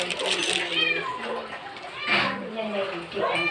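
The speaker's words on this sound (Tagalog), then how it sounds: "Daming sound daw, may pusa" A cat meows several times in a home kitchen during cooking, drawn-out mewing calls rising and falling close by, with children's voices and running water in the background.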